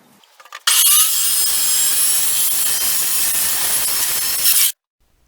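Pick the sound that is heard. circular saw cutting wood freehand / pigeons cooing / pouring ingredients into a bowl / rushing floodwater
circular saw cutting wood freehand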